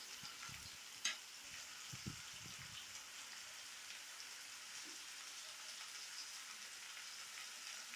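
Food sautés in a pan as a faint, steady sizzle runs throughout, with a few soft stirring knocks near the start and one brief metallic clink.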